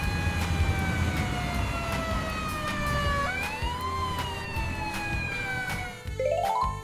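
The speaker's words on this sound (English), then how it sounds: "This is an airport fire truck." An airport fire truck's siren wails in long descending sweeps, then shifts pitch and breaks into a rapid rising yelp at the end, loud and close.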